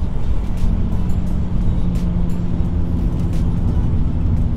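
VW Caddy with R32 power, wide body and air suspension, heard from inside while driving: a steady, loud engine drone with road rumble throughout, no talk.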